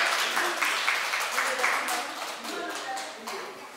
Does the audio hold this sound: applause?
yes